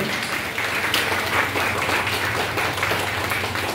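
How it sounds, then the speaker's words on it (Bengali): Audience applause at a Sangeetanjali music evening marking a lamp-lighting opening, steady broadband clapping sustained at even loudness throughout with a low hum underneath. "সকলে মিলে আমরা একসাথে করতালি দেব।"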